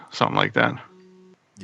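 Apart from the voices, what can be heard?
mobile phone going off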